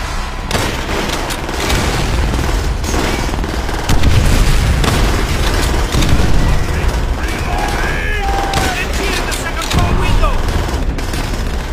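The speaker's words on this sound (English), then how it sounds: "Exploding the fuel tank will incinerate anyone standing nearby." Loud, continuous World War II combat in Call of Duty: World at War, with a heavy fuel tank explosion booming amid rattling gunfire and blasts, layered under a shouted voice.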